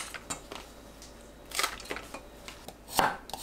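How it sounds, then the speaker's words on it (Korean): A knife cuts shishito peppers in half on a board, a few quiet, irregular taps and crisp clicks close by, with no voices. "꽈리고추 길이가 길면 반으로 자릅니다"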